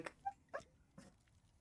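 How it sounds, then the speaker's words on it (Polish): A small dog whimpers and yips faintly in the background, a few short separate cries spread over about a second and a half in a quiet room. "Możecie słyszeć gdzieś tutaj w tle mojego pieska"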